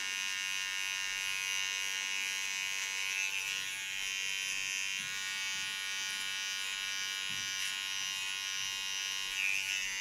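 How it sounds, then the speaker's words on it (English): Small hair clipper with wider teeth cutting hair, a steady close electric buzz with a thin whine, running continuously and fairly quietly for the whole stretch with no voices. "You can hear this is a different small clipper. This has a little bit wider teeth, so it gives more noise."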